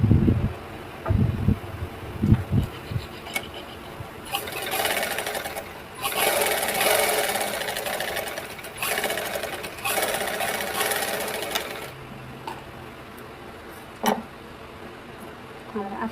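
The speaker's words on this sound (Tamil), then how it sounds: "இப்போ அதே 1/2 இன்ச் அளவுக்கு தையல் போட்டு எடுத்துக்கலாம்" A sewing machine stitches a half-inch seam on a simple lined blouse, its fast steady whir running in long close passes. A voice speaks briefly near the start, and a sharp tap breaks in near the end.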